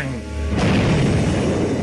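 A tank gun fires at a Tiger tank in a World War II battle near Caen, a heavy boom bursting loud and close, followed by a long rumbling roar.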